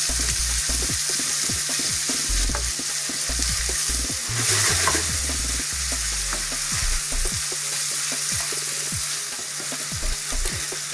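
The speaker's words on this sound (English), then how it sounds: "So brown up the meat a little bit." Meat browns in a pan for a Balkan crockpot dish, a constant close sizzle broken by repeated stirring clatters and scrapes of the utensil against the pan, with no voices.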